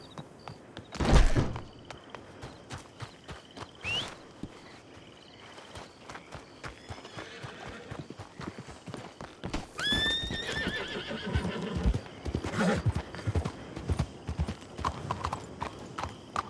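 Steady clip-clop of horse hooves with a sharp whinny early on and another neigh midway, over background game sounds and clatter.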